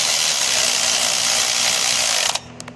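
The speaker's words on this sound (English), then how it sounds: "I'm going to go with my electric ratchet gently" An electric ratchet whirs steadily and loudly as it drives a starter bolt on a 2004 Oldsmobile Alero GLS V6, then cuts off abruptly near the end, leaving a few short mechanical clicks.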